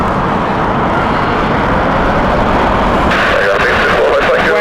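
A British Airways Boeing 787-9 landing at Heathrow in strong crosswinds, heard as a steady, loud broadband jet roar that holds throughout, with a brighter shift in tone near the end.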